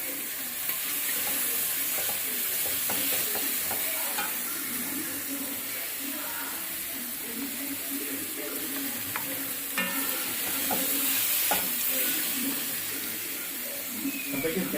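Garlic and ginger frying in a pan for a Christmas beef roast, a continuous moderate sizzle with stirring scrapes and light clatter, some faint background talk.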